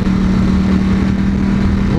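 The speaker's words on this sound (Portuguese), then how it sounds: "Motor V4 vibra, vocês podem ver aqui, ó, no retrovisor, ó, o tanto que vibra." A Ducati Panigale V4 S motorcycle's V4 engine runs at a steady idle, a loud, constant, throbbing hum with a strong low tone, heard close up throughout.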